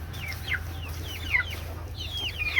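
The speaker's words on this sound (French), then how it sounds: "Et voilà les petits poussins." Several high, thin peeping calls of chicks repeat in short bursts over a steady low hum, with occasional soft clucking from nearby hens.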